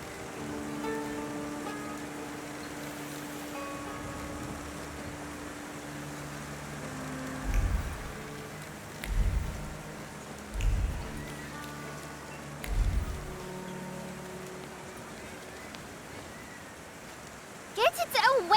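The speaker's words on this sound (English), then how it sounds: "And now it starts to rain." Steady rain falls in the video game The Thaumaturge, a continuous wash of patter under game music and low thumps, with a brief sharper burst at the end.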